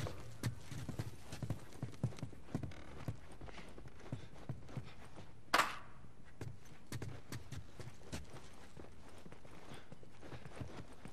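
Horse hooves clip-clop steadily in the video game The Last of Us, a brisk close rhythm of hoof strikes with one sharper burst of noise midway and no talking.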